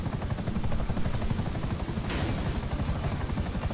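A helicopter in the video game GTA 5 gives a loud, steady rotor drone with rapid chopping pulses that stays constant and close throughout.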